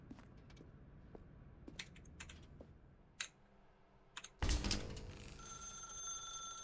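A telephone in The Stanley Parable rings after scattered soft clicks and taps, with a sudden loud onset that sustains as a bright ringing tone.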